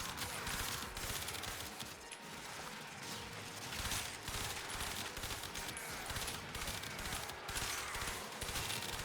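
A Harpak harpoon gun fires repeatedly in the video game Warframe, rapid bursts of sharp shots over dense, continuous combat noise, fairly faint overall.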